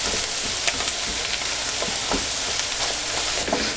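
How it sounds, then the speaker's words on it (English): Vegetables stir-frying in oil for stir-fry noodles give off a steady, close sizzle with bright crackling and occasional soft stirring scrapes, running continuously without any talk. "you just want to saute them or stir fry them"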